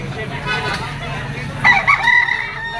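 A young rooster, a stag at a poultry auction market in Lipa, crows once, fairly close, over a background of crowd murmur and other birds.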